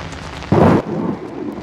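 In the horror game Outlast, a sudden loud thunder crack rumbles briefly, then rain keeps on as a steady hiss beneath it.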